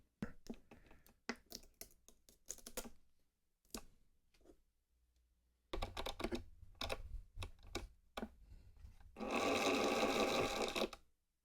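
A humbucker pickup coil winder spins wire onto a bobbin in short mechanical bursts, with stop-start clicking runs and a louder steady whirring stretch near the end.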